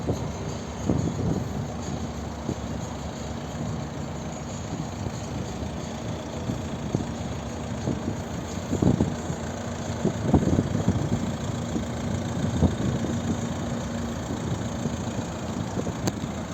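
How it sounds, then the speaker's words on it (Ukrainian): A 2008 Volvo V50 with a 2.0 diesel engine idles smoothly and steadily, a low continuous rumble with a few faint knocks and clatters from nearby. "Заведений, тихо рівно працює, ніякого дима, пара нічого і помині нема."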